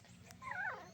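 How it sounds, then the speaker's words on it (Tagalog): A plump puppy gives a short, faint rising-and-falling whimper, a single thin whine heard close with little else around it. "Ang ating tuta."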